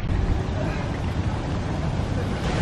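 Strong wind buffeting the microphone outdoors in Singapore, a steady, loud low rumble of gusts that fills the whole stretch without a break.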